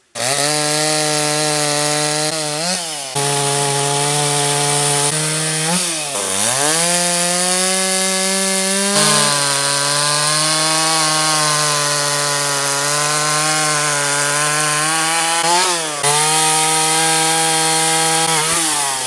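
A chainsaw cuts a maple log to length at a sawmill, loud and close, its engine revving in a sustained high buzz with brief pitch drops and recoveries as the chain bogs and frees in the wood.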